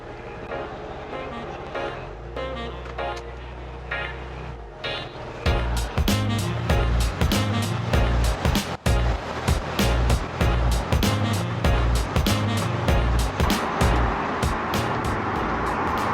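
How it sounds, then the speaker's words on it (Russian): A 2001 Porsche engine runs with a low steady rumble, then turns louder and grittier with rapid rhythmic pulsing as it drives on. "наслаждаться звуком этого двигателя"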